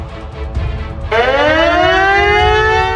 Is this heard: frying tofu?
no